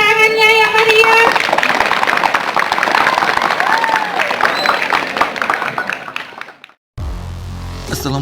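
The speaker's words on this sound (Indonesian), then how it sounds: "tepuk tangannya yang meriah" Loud, sustained applause from a crowd at a 77th National Teachers' Day ceremony at SMP Negeri 3 Nisam, Indonesia, with clapping and some cheering that fades out before a cut to other sound.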